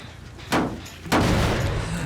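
Two sharp explosive booms about half a second apart in the video game Dead by Daylight, a generator exploding, each followed by a rumbling tail, loud and close.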